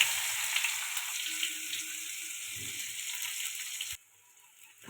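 Onion frying in hot oil with a five-spice tempering, a bright continuous sizzle that cuts off abruptly near the end, faint and close with light stirring underneath.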